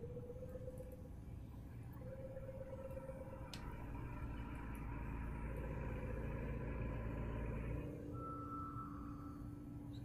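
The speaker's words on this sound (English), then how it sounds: "I swear my neighbor's idling his lawnmower outside my window." A neighbor's lawnmower idles outside a window, giving a steady, faint low engine drone that runs unbroken for the whole stretch.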